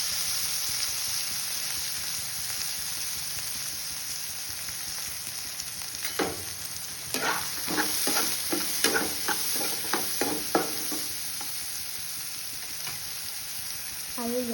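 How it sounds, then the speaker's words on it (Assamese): Small cut eggplant pieces frying slowly in oil in a pan, a constant hissing sizzle with a burst of quick spatula stirs and scrapes partway through, close with no voice. "অলপ সময় ভাজি ল'ম লাহে লাহেকৈ"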